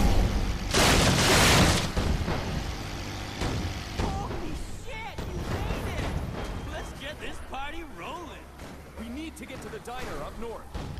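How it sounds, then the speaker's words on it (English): Fireworks going off in the video game Dead Rising 3. A loud, crackling burst of explosions opens the clip, then continued booms and pops under game voices and background commotion. "Fireworks."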